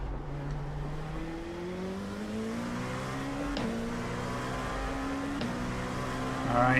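LMDH prototype race cars in the iRacing simulator scream past at Monza, engine notes rising steadily as they accelerate and overtake, with a couple of sharp gearshift cuts and a louder car closing in at the end.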